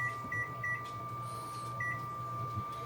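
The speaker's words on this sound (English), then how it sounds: "We're going to set a timer." A kitchen timer being set beside a simmering pot gives several short electronic beeps over a steady low hum, quiet and close, with no talking.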